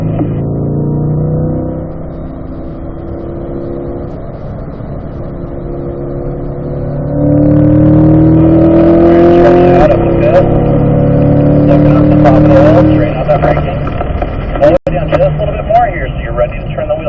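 A race car engine on track rises in pitch through rising harmonic sweeps, drops as gears shift, then climbs again loudly, with a voice talking over it throughout.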